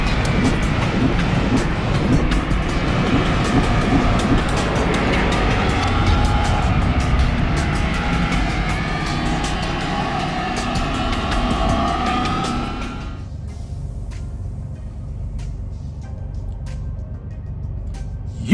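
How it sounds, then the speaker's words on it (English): Vehicles rumble around the Iowa 80 truck stop in a steady, fairly loud broadband drone that drops suddenly to a much quieter background hum near the end. "I'm at the Iowa 80 truck stop."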